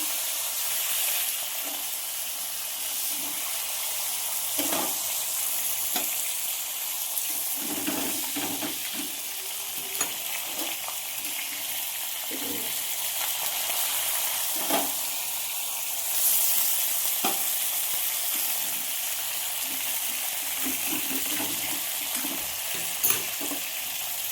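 Chicken pieces fry in a small amount of white oil with Kashmiri chili powder in a pan, giving a steady close sizzle and hiss with occasional stirring scrapes throughout, no talking.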